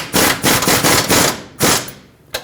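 Control arm mounting nuts on a 2009-2019 Ford Flex being tightened with a 15mm socket and wrench, loud rapid ratcheting bursts in several runs separated by short pauses, then a final sharp click.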